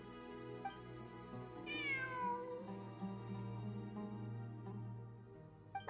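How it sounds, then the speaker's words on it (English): A cat in a video game meows with a rising then falling drawn-out cry over a steady tonal game music drone, heard clearly with no talking. "It really is a cat."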